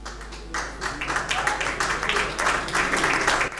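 An audience applauds a trophy presentation at the first Pool Malebo Music Awards ceremony, with brisk clapping swelling in uneven waves over a low electrical hum in the hall.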